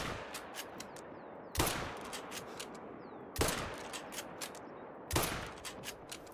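Three loud gunshots from a hunting video game set in Salzwiesen Park, spaced about two seconds apart, each a sharp crack with a ringing tail over a steady background of game ambience.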